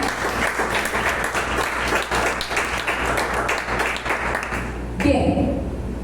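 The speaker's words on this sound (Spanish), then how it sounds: "Dale un aplauso a Jesús, amén." Congregation applauding in a church during an Easter Sunday service, a dense wash of clapping that fills the room for about five seconds, then breaks off as a voice and some room sound take over.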